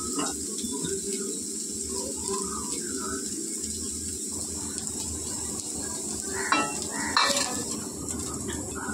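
Oil used for frying onions sizzles in a pan on a gas stove, a steady moderate hiss with occasional clinks of utensils against cookware, fairly close and continuous throughout.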